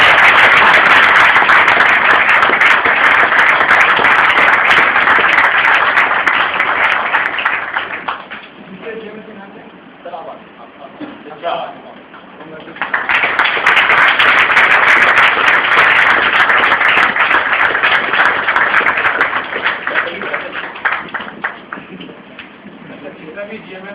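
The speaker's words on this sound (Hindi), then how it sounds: "तालियां बनेगी" Audience applause at a follow-up training session, with loud sustained clapping for about eight seconds, a short lull, then a second long burst of applause that gradually fades.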